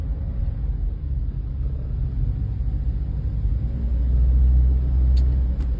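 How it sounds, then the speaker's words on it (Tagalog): Heavy road traffic in Christchurch, a continuous low rumble of passing cars and engines that swells slightly toward the end, with a couple of faint clicks near the close. "ang Christchurch gyud grabe gyud pud kayo ka traffic"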